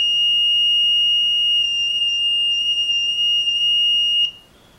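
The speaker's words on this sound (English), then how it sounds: "Now this makes a really annoying alarm sound." An electronic alarm on a Kids Logic Back to the Future 2 hoverboard toy sounds as a steady, loud, high-pitched beep with overtones, running unbroken for about four seconds before cutting off into near silence.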